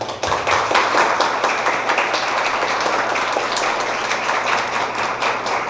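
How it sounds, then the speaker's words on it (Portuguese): Applause at a church titling ceremony for ordained ministers, with steady, dense clapping from a crowd that holds strong throughout without any talking. "peço aos presentes que os saudem com uma salva de palmas"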